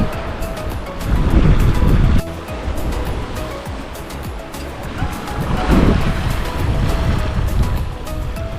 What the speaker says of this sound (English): We have the wind coming from behind us, our big sail up, and we're getting along beautifully.